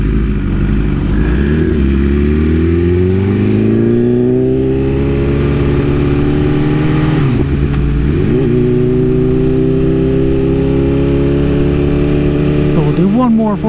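A strapped, lowered 2021 BMW S1000RR races hard, its engine loud and close, rising and falling in pitch through revs and shifts, with a rider talking over the roar.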